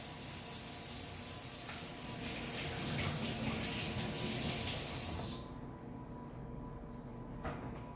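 A kitchen tap runs in a strong, steady splash as hands are rinsed, then the flow cuts off abruptly, leaving a quieter room with a faint click afterward.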